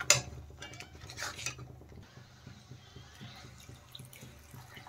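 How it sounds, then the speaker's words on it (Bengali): Water poured into a pan of spinach paste for palak paneer, a faint trickle and splash with light clinks of a spoon or utensil, quiet kitchen sounds with no talk. "এখন আমি এর মধ্যে দিয়ে দেব কিছুটা জল।"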